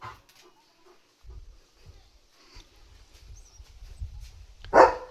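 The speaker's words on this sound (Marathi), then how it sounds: "जो नुसता भुंकत भुंकत राहतोय" A German Shepherd named Leo barks in scattered, low-level yelps and whimpers indoors, ending in one loud, close bark.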